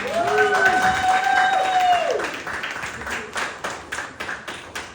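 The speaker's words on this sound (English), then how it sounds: "I want you all to give yourselves a big round of applause." Applause and cheering from the audience at a poetry event in New York, with a loud crowd in the first seconds that thins into scattered, sharper claps toward the end.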